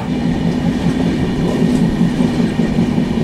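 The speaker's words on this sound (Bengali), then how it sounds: "আর ট্রেন কিন্তু নিজস্ব গতিতে ছুটছে, আর রাইট টাইমেই দেখাচ্ছে" Inside the Jagannath Express from Kolkata toward Puri, the carriage rumbles steadily along the rails at speed, a continuous loud drone with soft clickety-clack beneath.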